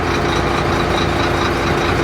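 A heavy truck engine, about 37 tons on a steep road in Samar, rumbles steadily at idle, loud and close with a constant low drone and no breaks.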